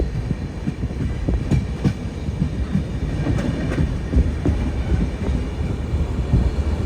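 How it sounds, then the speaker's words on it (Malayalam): The Khongsang Jan Shatabdi Express rolls toward Ambassa station in Tripura, a loud, continuous rumble with rhythmic wheel clatter close by and no talking. "ഏഴേ കാല് ട്രെയിൻ ഇത് അംബാസ സ്റ്റേഷനിലേക്ക് എത്തിക്കൊണ്ടിരിക്കുകയാണ്"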